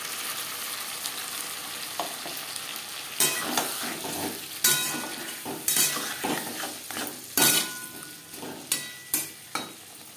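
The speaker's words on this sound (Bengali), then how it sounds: "2-3 মিনিট আলু ভেজে নেওয়ার পর দিয়ে দেবো টমেটো কাঁচা লঙ্কার পেস্ট" Potatoes frying in a pan with tomato and green chili paste, a steady sizzle broken by repeated loud scrapes and stirring clatters of a utensil against the pan, close up and with no voices.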